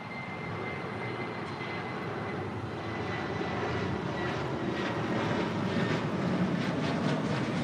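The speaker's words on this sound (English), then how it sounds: "Now rolling is Sun Country Airlines, flight" Sun Country Airlines jet at LAX rolling down the runway for takeoff, a steady engine roar heard from a distance that slowly swells louder, with no voices.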